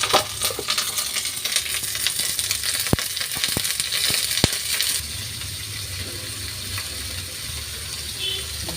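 Fish coated in masala frying in oil on a dosa pan, with a steady close hiss and sizzle and a few sharp clinks of utensils against the pan in the first half, then a softer, even sizzle.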